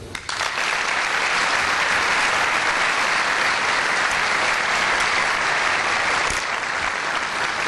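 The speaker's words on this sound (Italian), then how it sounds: "Dunque ora il lungo applauso," Long, sustained applause for the head of state fills a municipal theatre packed with officials and mayors, a loud, dense and unbroken roar of clapping from a large audience.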